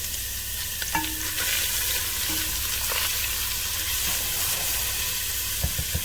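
Chopped onions sweat in a pan for a shrimp alfredo base, giving off a steady, soft sizzle and hiss throughout, with a few scrapes of stirring rising above the low frying.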